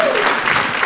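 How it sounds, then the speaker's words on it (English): Brief burst of audience applause at a live comedy show, loud and close, with a faint vocal sound at the start. "Maggie, round of applause for the guys, well done."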